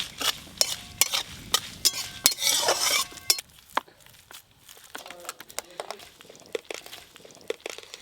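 Chillies frying in hot oil in a pan for chilli oil, with a spoon stirring and scraping in repeated close, sharp strokes over a steady sizzle that fades to lighter clinks and crackles.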